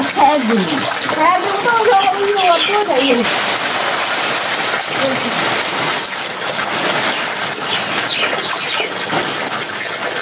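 Water pours steadily over rice paddy to soak it before boiling, a continuous gushing splash that runs the whole time, with a voice talking over it at the start.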